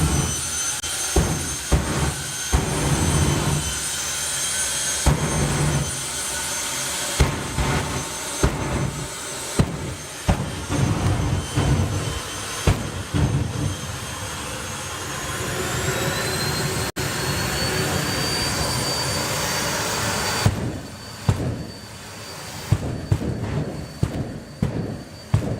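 At a drag race, a jet dragster's jet engine roars loud and sustained for a long stretch, its whine steady beneath sharp bursts and pops that punctuate the noise.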